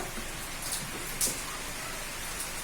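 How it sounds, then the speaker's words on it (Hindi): Steady rain falling outside a house, a soft continuous hiss with a few brighter drop spatters, fairly faint and without talk. "ठीक ठाक बारिश आ रही है।"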